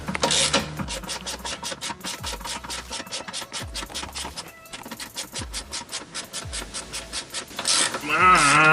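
Heavy clanking and scraping as a BMW car subframe with an M54 engine drops loose after its last bolt comes out, a dense run of rapid metallic rattles with a few low thuds and a loud crash near the end.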